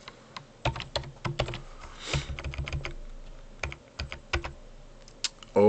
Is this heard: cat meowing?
no